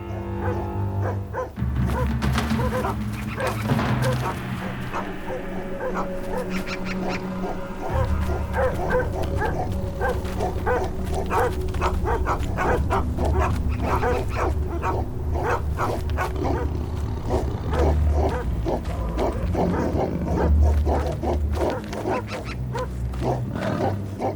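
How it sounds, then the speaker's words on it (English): Dogs bark and yip around a snow leopard's carcass on the Tibetan plateau, a busy chorus of repeated barks and growling calls, fairly close, mixed with other animal sounds and continuing throughout. "As always, the dogs think the carcass belongs to them."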